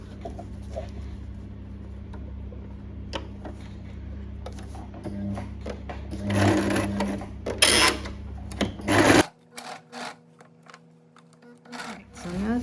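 A sewing machine stitches a recycled, printed fabric garment bag in a close, whirring run with short pauses, growing louder midway before stopping; a voice briefly speaks near the end.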